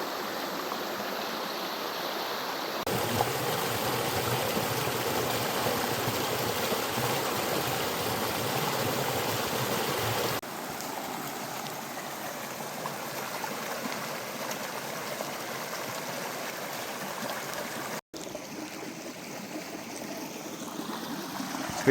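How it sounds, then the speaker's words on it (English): Gheerulla Creek flows along a bushwalking track, a constant close rushing and burbling of water that shifts in character as the listening position changes, with no voices. "just looking at the creek where the track goes away from it"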